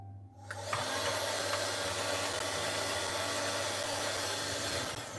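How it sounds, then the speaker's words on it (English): A vacuum cleaner hoovering up leafcutter ants, switching on after a brief quiet start and then droning loudly and steadily close by without talk. "why am I even hoovering all of this?"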